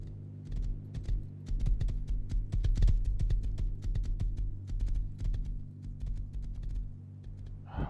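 Rapid, uneven clopping of hooves over a low steady hum, a horse galloping in the video game Rust, with no talking.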